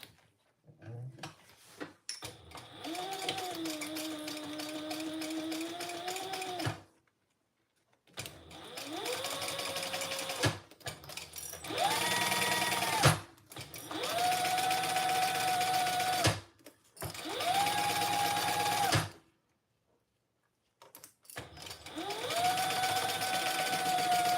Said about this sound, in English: let's stitch these on, and then we'll turn them and top stitch them